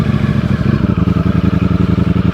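Deep, loud rumble from a Ducati Streetfighter V4S motorcycle's V4 engine, close by, with a rhythmic throbbing pulse that quickens slightly toward the end, heard alone without voices.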